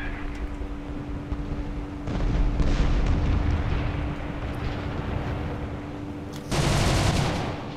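Aircraft cannon fire and the steady engine roar of a Ta 154 in a War Thunder simulator battle, with heavy rumbling bursts rising over the continuous drone.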